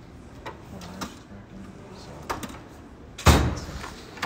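A workshop drawer holding Porsche engine parts and measuring tools slides open with a sharp rattling clunk after a few soft knocks, close by in a quiet room.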